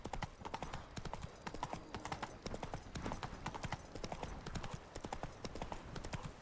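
Hooves of a galloping horse in The Witcher 3 video game, a fast, steady clip-clop rhythm that is close and continuous from start to end, with no talk.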